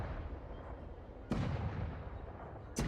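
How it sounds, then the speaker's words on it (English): Cannon fire in the video game Honkai: Star Rail, two heavy booming blasts about a second and a half apart, each a sharp loud onset followed by a rumbling decay over a steady low background. "Cannon."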